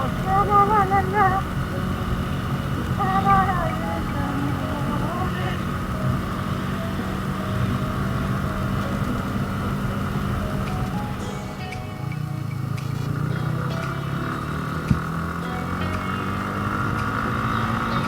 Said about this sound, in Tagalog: Nabukas naman ang ating motor.